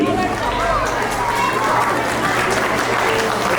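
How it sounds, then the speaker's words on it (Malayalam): An audience at an Onam 2026 inaugural celebration claps steadily throughout, a dense, loud wash of applause with crowd murmur and voices mixed underneath. "ഒരു നല്ല കയ്യടിയോടുകൂടി"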